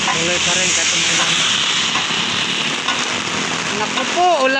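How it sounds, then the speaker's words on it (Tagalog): Heavy rain pouring down at a roadside tire vulcanizing shop, a loud continuous hiss with splashing texture, with a voice speaking briefly near the start and the end. "Naku po, ulan."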